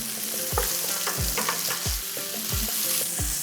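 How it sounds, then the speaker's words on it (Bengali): Rice frying with spices in a pan, a steady sizzle broken by several sharp scrapes and stirring knocks at a regular pace, close and fairly loud with no talking. "এরপরে মশলার সাথে আমি চালটাকে বেশ ভালো করে ভেজে নেব।"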